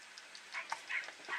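Puppies in the Disney's 101 Dalmatians Interactive Storybook game give a quick flurry of small, faint yips and barks, several overlapping in just over a second.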